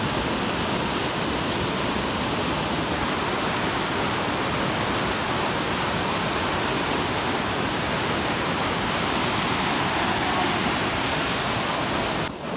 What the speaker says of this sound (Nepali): यहाँनिर चाहिँ एकदम खोलाहरू यहाँनिर बढेर